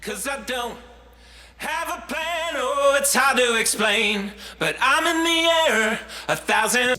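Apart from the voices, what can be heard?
Lexicon digital reverb on vocals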